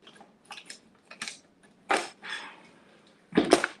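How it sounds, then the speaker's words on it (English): Spatulas picked up for mixing cake frosting colors in a home kitchen: a handful of light clatters, taps and rustles, close by, with a louder clink near the end. "So let me grab some spatulas."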